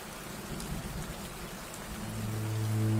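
Steady rainfall on a rural field, a continuous hiss of drops, with a deep low rumble of thunder swelling louder toward the end.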